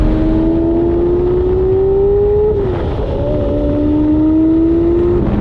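Lamborghini Murcielago LP640 converted to a gated manual, its engine droning loudly as revs climb steadily, dip briefly at a gear change, then climb again.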